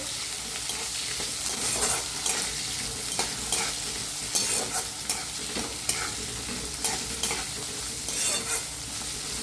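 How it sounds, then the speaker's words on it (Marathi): Garlic and long-cut green chilies fry in oil in a pan for a village-style masala brinjal, giving a steady close sizzle broken by regular scraping stirs of a spoon. "हिरवी मिरची लांबून कापून घेतल्या छान असं भाजून घेऊया"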